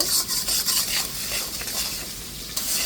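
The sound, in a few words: stirring spice masala in a pan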